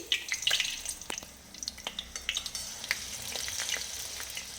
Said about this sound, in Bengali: লাল করে এক একটা কচুরি আমি পরপর এবার ভেজে নিচ্ছি।